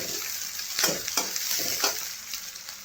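Red chillies frying in hot oil for a drumstick-flower vegetable dish: a loud, close sizzle broken by several quick scraping stirs in a loose rhythm, with no one speaking.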